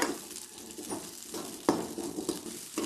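Shallots, garlic cloves and curry leaves are tempered in hot oil in a pan for a horse gram chutney, with a soft sizzle under the repeated scrape and clink of a spoon stirring. No one talks.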